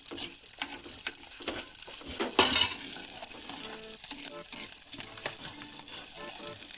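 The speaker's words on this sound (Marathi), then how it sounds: "कांदा करपले आपला जरा चांगला मस्त करपले थोडा हलवून घे" Onions sizzle loudly in a pan for a village-style crab curry while a spoon scrapes and stirs them in quick, irregular strokes, heard close with no speech.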